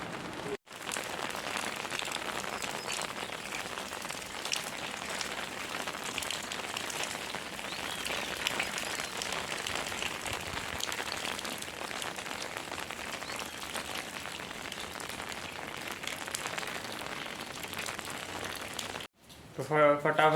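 Heavy rain falling steadily outdoors during a downpour, a dense continuous hiss of drops on surfaces that stays even throughout, briefly cut off near the start and end.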